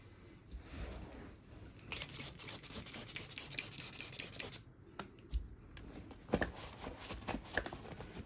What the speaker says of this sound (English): So we'll clean out the brush chamber, then we'll clean up the brush.